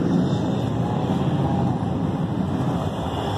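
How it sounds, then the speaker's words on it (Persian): Airplane flying overhead, a loud, steady roar that holds constant for the whole stretch with no other sounds. "هواپیما هم صدا شما داره میپره"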